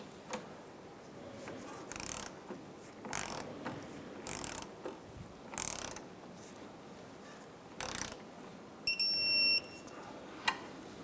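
A ratchet wrench snugs down a strut nut on a 2004–2008 Acura TL front strut assembly, giving several separate short bursts of rapid clicking, close and crisp, with quiet pauses between them.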